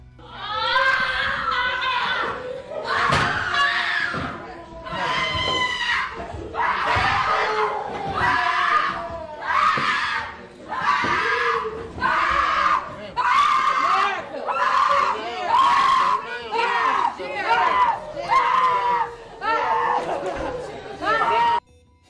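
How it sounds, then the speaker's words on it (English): Family members scream and wail in a courtroom right after a verdict, with loud, repeated anguished shouts and cries overlapping one another over crowd chatter and echoing through the room for the whole stretch. "screams of their family members echoed through the courtroom"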